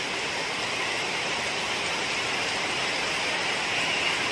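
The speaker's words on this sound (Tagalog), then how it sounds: "Unti-unting pumapatak ang buhos ng ulan." Steady heavy rain pours down without a break, a dense, even hiss that fills the whole stretch with no voices.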